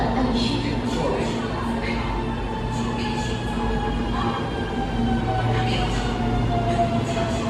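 A Shanghai Metro Line 13 type 13A01 train runs between Changshou Road and Natural History Museum, a loud, steady rumble with droning motor tones and whining harmonics filling the whole stretch, heard from inside the car.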